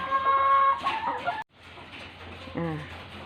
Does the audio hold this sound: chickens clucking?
yes